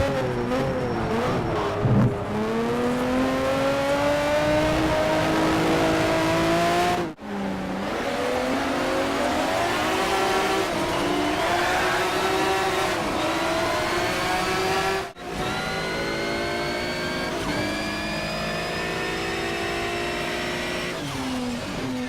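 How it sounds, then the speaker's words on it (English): Racing car engines from Shift 2: Unleashed rev and accelerate continuously and loudly, with rising gear-change sweeps and two brief cuts between shifts, no talking. "you should have heard some really satisfying engine sounds throughout this video"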